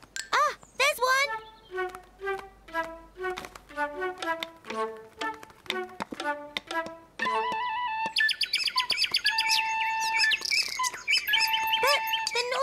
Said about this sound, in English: But the naughty birds are squabbling!